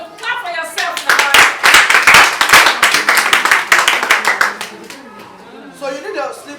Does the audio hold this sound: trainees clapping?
yes